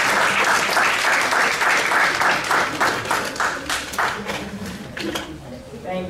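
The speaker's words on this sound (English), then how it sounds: "give her a wonderful hand clap, let her know that she's welcome" A lecture audience claps to welcome the session's moderator, a dense burst of applause that thins and fades out toward the end.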